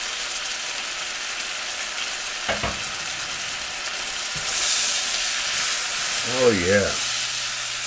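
Whole shrimp and sausage sizzle steadily in a hot pan during outdoor cooking on a cold day, giving a continuous hiss that briefly swells louder, with a few utensil knocks and a short spoken remark.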